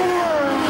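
A racing vehicle at Cadwell Park circuit sweeps past, a loud engine tone gliding downward in pitch over less than a second as it goes by.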